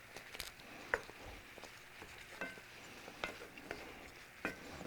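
Carrots being stirred in a pot of chicken osso buco, a quiet wet scraping with soft clinks and a few sharp taps of the spoon against the pot, faint and close, with no talking.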